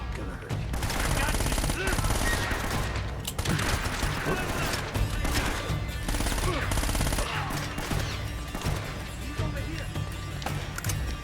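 AK-47 fire in Uncharted: Drake's Fortune, dense repeated bursts of shots over game music and combat noise, with a voice talking now and then.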